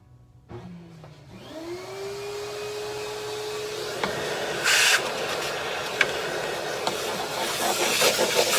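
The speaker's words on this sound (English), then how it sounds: "And then I'll bring my vacuum in and clean out under here." A vacuum cleaner starts up and runs with a rising whine, cleaning inside a vintage 1968 Ampeg bass amp, with a few sharp bumps and rattles of the nozzle against the chassis.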